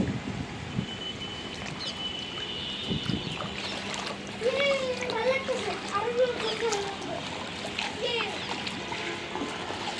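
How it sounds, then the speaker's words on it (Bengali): Rain falls and splashes while water drains off a rooftop, giving a steady wet hiss and spatter throughout. Voices, including a child's, talk over it. "বৃষ্টিতে ভিজে যাচ্ছি"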